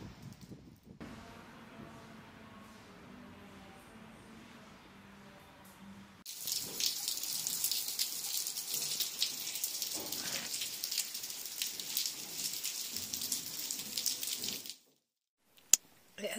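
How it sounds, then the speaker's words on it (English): Heavy rain falling outside a church during a downpour in French Basque country, a steady broadband hiss that starts moderately and then surges louder and denser before cutting off near the end. "It has been raining for, it feels like days."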